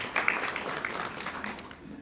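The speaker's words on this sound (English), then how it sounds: "Can we also give him another round of applause over there?" An audience at an evening business event in KwaZulu-Natal applauds: a brief, faint patter of many hands clapping, heard from some distance.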